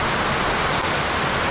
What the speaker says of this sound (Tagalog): Yan ay ulan oh. Nandaramdaman. Lakas ng ulan.